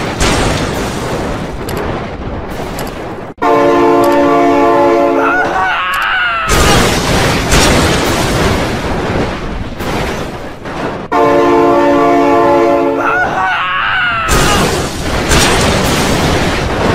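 A toy train rushes past over loud clattering noise, and a blaring horn sounds twice, each blast lasting a few seconds between stretches of heavy rumble.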